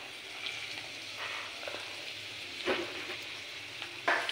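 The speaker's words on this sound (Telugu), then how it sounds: "చిన్న ముక్కలు, వీటిని కూడా అందులో వేసుకుని ఫ్రై చేసుకుందాం" Small chopped pieces frying in a pan for dosakaya pachadi, a quiet, continuous sizzle with a few soft stirring knocks and clicks, no talking.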